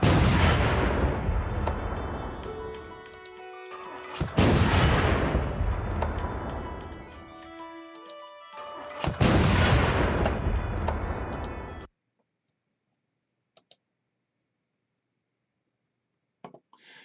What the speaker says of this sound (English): Let's activate our artillery and begin the bombardment.